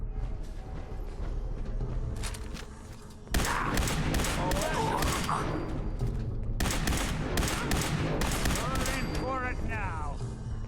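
Rapid bursts of gunfire from a gun in Fallout 4 crack out in dense, repeated volleys over ten seconds, loud and close, with game sounds and a voice mixed in underneath.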